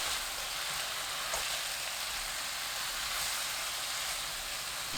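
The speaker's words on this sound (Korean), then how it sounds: "베이컨 넣고 센 불로 30초 볶아주세요" Bacon being stir-fried over high heat in a pan for an eggplant and bacon stir-fry: a steady, dense sizzle and hiss holds for the whole stretch, fairly close, with no voices.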